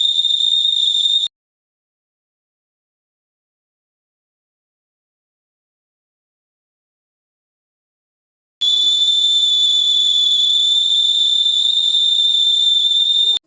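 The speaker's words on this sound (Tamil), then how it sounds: "மில்க் பாய்லர் விசில் வர ஆரம்பிச்சிருச்சு." A milk boiler heating on a kitchen stove gives off a sustained high, steady whistle. It is heard briefly at first, then after a long silence it returns and continues, loud and close.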